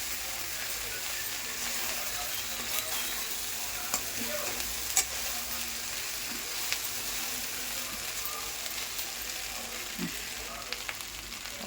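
Fried idli stirred in a hot pan, a steady close sizzle of frying with scattered scraping clicks from the stirring, continuous throughout without talk.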